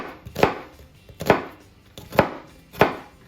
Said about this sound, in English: we're gonna take our knife, and we wanna start making slices in the onion